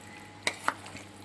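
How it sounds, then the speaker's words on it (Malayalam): Mutton washed two hours earlier is stirred in a pot for a Kerala mutton curry, with a few sharp spoon scrapes and clinks against the metal over a faint background hum. "മട്ടൺ വീണ് ഇനി ഇതിനകത്ത് ഇളക്കുന്നു"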